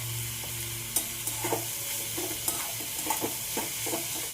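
Onion frying in a pan with broken chilies and salt added, a steady low sizzle under repeated scraping stirs of a spatula, close and moderately loud, with no talk.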